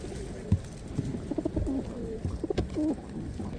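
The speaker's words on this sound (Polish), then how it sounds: "Wszystkie gołębie pana Daniela." Pigeons coo repeatedly at a Radom pigeon market, a series of soft, low, throaty calls in short rhythmic bursts, fairly close, over a murmur of background crowd noise.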